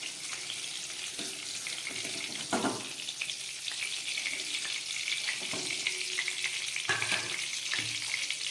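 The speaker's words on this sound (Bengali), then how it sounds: "এই তেলের মধ্যে আমি এবার আলুগুলোকে ভেজে নেব" Potatoes fry in oil left over from frying pointed gourd, a fairly quiet, steady bubbling sizzle broken by a few knocks and scrapes of a utensil against the pan.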